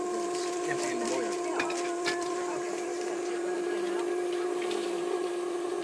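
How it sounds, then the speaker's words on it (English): Steam hisses steadily from a horizontal boiler driving a steam mill engine, a continuous loud whistle-like hiss with a sustained tone running throughout, with faint mechanical knocks beneath. "Most of your steam will be coming out of your sheet metal."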